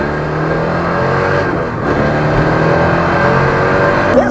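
A supercharged C5 Corvette accelerates hard with a loud, continuous engine roar heard from close by, holding steady and building slightly across the pull, with no talking.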